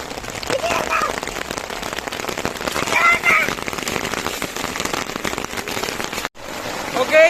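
Heavy rain drumming on a camping tent, a dense close patter with crackly drop impacts filling the space, people talking inside underneath, and a brief cutoff near the end.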